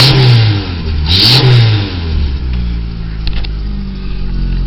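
A Plymouth Sundance engine with no catalytic converter, only a straight pipe, revs up twice in loud, close rising surges, then settles into a rough, raspy idle.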